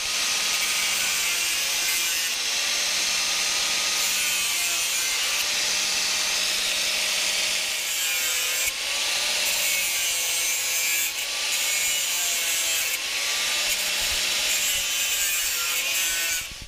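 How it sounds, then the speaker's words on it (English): A DeWalt angle grinder with a cutoff wheel cuts through welds on a grill grate, a loud, steady, close abrasive whine that wavers in pitch and dips briefly between passes. "I'm using a cutoff wheel on my DeWalt angle grinder here."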